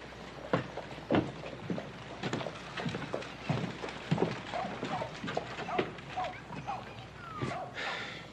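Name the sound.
horse hooves clip-clopping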